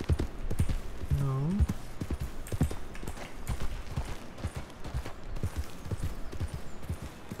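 Horse hooves clip-clop at a steady walking rhythm in the Red Dead Redemption 2 video game, a near, even run of hoof knocks under background game sound and a short whinny.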